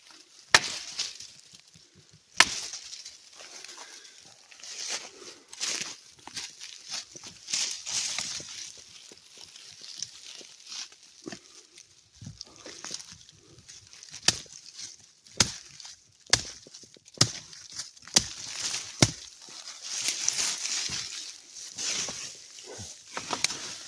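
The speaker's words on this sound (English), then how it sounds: "Have a whack at the dead branch." Irregular woody whacks from a Bill Kennedy Bowie knife chopping a dead beech branch outdoors, sharp strikes scattered through a steady hiss, some louder and closer than others, no talking.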